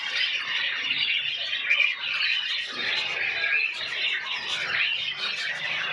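A pair of albino budgerigars squawk and chirp in a dense, continuous chatter, close and fairly loud throughout.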